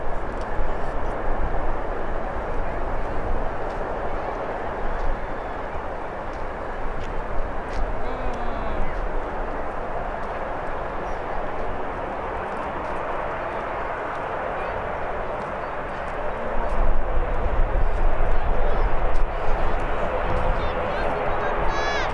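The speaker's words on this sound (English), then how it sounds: "We've got the BizJet bombing across the runway as we speak." A business jet at Birmingham airport rumbles across the runway, a broad steady roar from a distance that swells louder near the end, with someone talking over it.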